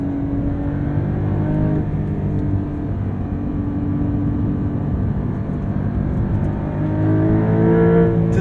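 A 2023 Porsche 911 T with a manual gearbox is driven hard, its engine revving up and down in a loud, close, harmonic snarl that swells toward the end.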